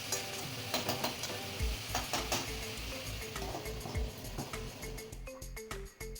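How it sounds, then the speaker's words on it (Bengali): Jackfruit and prawns are stirred with salt in a pan. Repeated spatula scrapes and clanks ride over a continuous close sizzle, fairly steady before quieting near the end, with no talking. "লবণ দিয়ে একটু ভালো করে নাড়াচাড়া করে নিচ্ছি"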